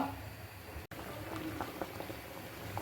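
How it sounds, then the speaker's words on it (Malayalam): Palakkad-style tamarind curry (varapuli curry) simmers in a pot, giving soft, faint, continuous bubbling and light popping close by. "നന്നായിട്ട് തിളച്ച് വന്നിട്ടുണ്ട്."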